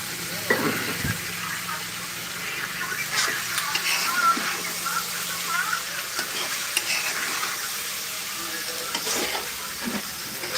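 Pieces of food frying in hot oil, probably while being stirred in a pan: a steady sizzle and hiss with scraping stirs throughout, close and fairly loud.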